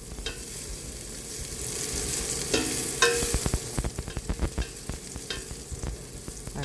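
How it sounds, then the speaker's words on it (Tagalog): Garlic sautés in a hot pot, a steady sizzle broken by scraping, clattering stirs that grow more frequent. "Yan, mainit na po ang ating kaldero. Tayo po mag-start na mag-gisa ng ating bawang."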